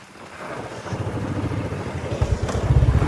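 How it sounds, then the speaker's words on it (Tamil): A Royal Enfield Bullet motorcycle engine struggles and knocks on a hill ride, a close, rough low thumping that grows louder and more uneven toward the end, with wind noise and no talk. "நம்ம புல்லட் வந்து பார்த்தீங்கன்னா நின்றுச்சு, அடிக்க ஆரம்பிச்சிச்சு"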